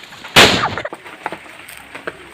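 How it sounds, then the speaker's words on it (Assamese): A firecracker bursts close by outdoors during rain: one sharp, loud bang that decays into a brief crackling tail, followed by a few faint scattered pops and a low background hiss. "জীৱনত প্ৰথমবাৰ ফটকা মাৰিছোঁ"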